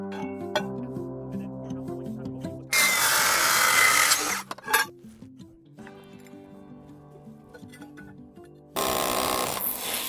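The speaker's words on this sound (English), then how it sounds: "drilling holes and tightening the anchor bolts for secure fastening" A power drill bores anchor bolt holes into a concrete foundation on a garage build site, running in two loud harsh bursts separated by clinks and lighter tool sounds.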